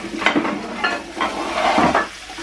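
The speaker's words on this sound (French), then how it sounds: "On mélange les un petit peu." Mauritian fish curry ingredients are mixed in a hot pan, a spoon scraping and turning them over a steady sizzle, close and fairly loud, with several uneven stirring strokes.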